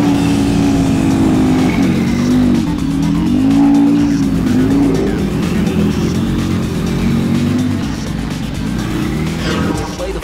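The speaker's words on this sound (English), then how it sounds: "play a short driving game as a practice round" Car racing game on a cinema screen, played with phones as steering wheels: a loud, continuous engine drone rising and falling in pitch, with long tire squeals sliding through corners, close and busy throughout.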